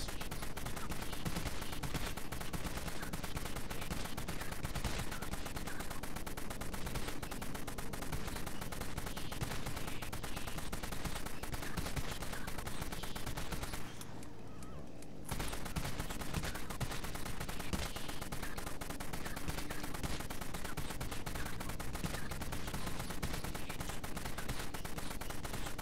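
Rapid, sustained gunfire in the zombie shooter Dead Frontier, a dense, loud barrage of rounds pumped into one enemy that runs almost continuously, with one brief pause partway through.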